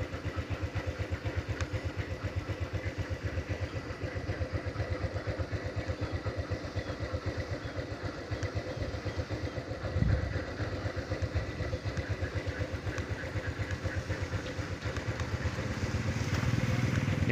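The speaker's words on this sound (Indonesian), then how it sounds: "tampak para pengendara motor pun juga menginjak padi yang dijemurnya di jalan" A motorcycle engine chugs at a steady nearby idle-to-low rumble on a village road where rice is drying, with a brief thump midway and the engine note rising near the end.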